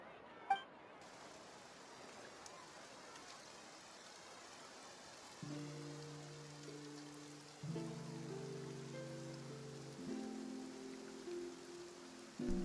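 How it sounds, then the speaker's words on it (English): Steady rain hisses across a Genshin Impact game scene, a dense, even wash of falling water. Soft melodic game music fades in partway through and plays over the rain. "Looks like rain."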